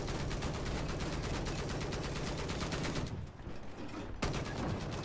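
Rapid gunfire in the video game Battlefield 4 on Xbox 360, a dense loud stream of shots that drops briefly near the end before a sharp burst resumes.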